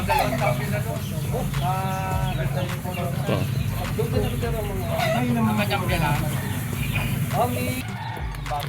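Chickens, including a Boston Roundhead stag, cluck and crow close by while someone talks over them, with farmyard noise throughout.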